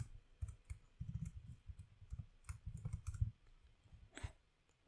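Quiet computer keyboard typing while writing React code: bursts of soft, fast clicks in irregular runs, closely miked, then one sharper tap and a brief pause.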